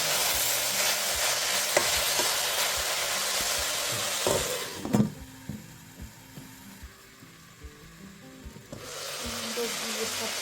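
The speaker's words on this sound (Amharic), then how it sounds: "ውሃ ሳልጨምር ነው ጥብስ እናደርገው" Collard greens (gomen) fry dry in a pan with no water added, giving a steady close sizzle with scraping stir strokes; the sizzle briefly drops quieter midway before rising again.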